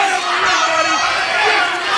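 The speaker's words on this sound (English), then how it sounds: "listen to this crowd. This crowd going bananas here with their hatred of the American Patriots" A wrestling arena crowd roars and jeers loudly and continuously, a dense wall of shouting voices with no break, close and filling the space.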